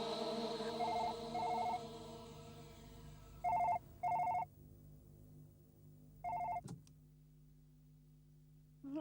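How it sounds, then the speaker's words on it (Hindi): Old-style telephone bell ringing in a Hindi horror TV serial, several short ring bursts separated by pauses against a quiet background, ending with a clunk as the receiver is lifted. "अभी फोन आया था शैलेश का।"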